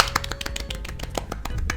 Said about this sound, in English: Let's have a clap for Anon too.